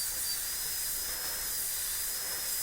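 A high-pitched dental drill with a chamfer burr whines steadily while cutting a tooth, a continuous hissing tone close by with no voices over it.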